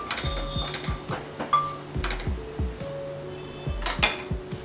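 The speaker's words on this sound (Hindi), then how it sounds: "मसाले को चला देंगे।" A metal spoon scrapes and clinks against a cooking pan as spices with a pinch of asafoetida and coriander powder are stirred, giving several close, irregular knocks and rattles with no talking.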